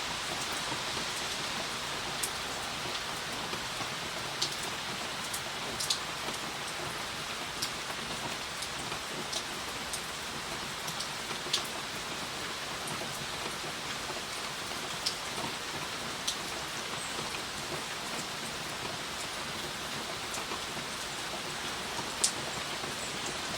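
Steady rain falls on a surface outdoors, a soft continuous hiss with scattered sharper drip ticks, fairly quiet and even throughout with no voices.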